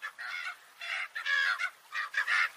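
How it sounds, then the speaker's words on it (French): Gull cries in Paris, a series of about six nasal, honking calls in quick irregular bursts, clear and fairly close against a quiet background. "On vient d'entendre des cris qui sont des cris de goéland, un oiseau marin"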